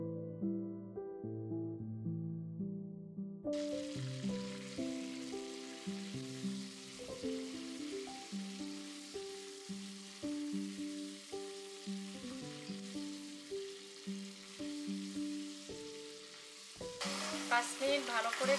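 Mutton pieces go into hot oil with black pepper, cinnamon and cloves for lamb rogan josh, a quiet opening giving way to a steady sizzle with rhythmic stirring and clinks, then a louder hiss near the end.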